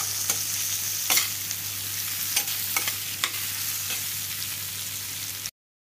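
Raisins fry in a pan for semiya payasam, making a steady hiss with a low hum underneath and a few crisp ticks and scrapes of a spoon, close and even, with no voices, before the sound cuts off abruptly.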